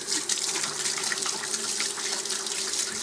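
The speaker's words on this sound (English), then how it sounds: "You gotta wash your hands." Tap water runs steadily over hands washed at a kitchen sink, a continuous close gush and splash with no voices.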